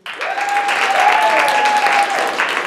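Applause from a live audience of older adults, steady and fairly loud, with a few cheers and whistles rising through it, lasting the whole stretch.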